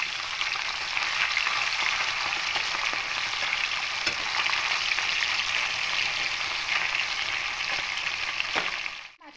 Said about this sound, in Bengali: মাছগুলো দিয়ে হালকা করে ভাজবো, খুব কড়া করে ভাজবো না।